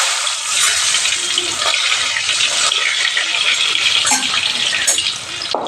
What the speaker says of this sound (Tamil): எண்ணெய் நல்லா காஞ்சிட்டுமா கடுகு போடுங்க கடுகு நல்லா பொரிஞ்சு